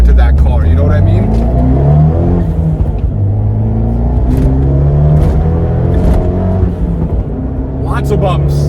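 Abarth 124 Spider engine while driving, a steady, loud rumbling drone with shifting harmonics as revs rise and fall, heard from inside the car, with a voice talking over it.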